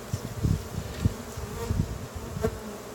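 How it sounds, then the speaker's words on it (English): Honeybees buzz steadily during a hive inspection as the comb is worked, a close, continuous drone with a few louder passes of individual bees near the microphone. "So we're going to brush those bees off."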